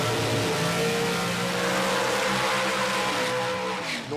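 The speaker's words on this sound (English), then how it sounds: "I hear engines running right now, Ralph." Pro Stock drag race car engines at a motorsports track, loud and continuous with a steady high-pitched roar and some rising harmonics, holding strong throughout before dipping slightly at the end.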